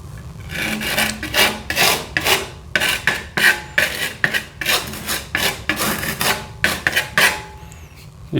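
Brush laying down an oil paint background, heard as a series of rhythmic rasping, scraping strokes against the canvas, close and fairly loud with short pauses between them, no talking.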